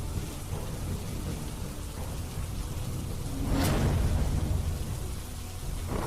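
Heavy late-night rain in Surendranagar, Gujarat, pours as a dense, steady hiss of drops on surfaces, with a sudden crack of nearby thunder midway that swells the roar before it settles back.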